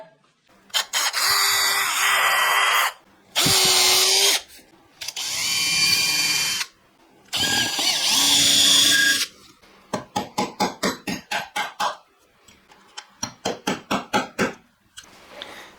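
A power drill drilling guitar parts whines in several long bursts with pauses between, followed by rapid rhythmic hammer-like taps in two quick runs.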